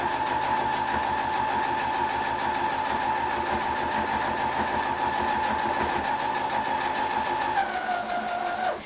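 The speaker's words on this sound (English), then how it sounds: "Be careful when you go over the side seams because they're really thick and sometimes the sewing machine will get stuck." Sewing machine stitching the hem of a pair of jeans, a steady close motor whir with rapid needle clatter running continuously for several seconds, then slowing and stopping at the end.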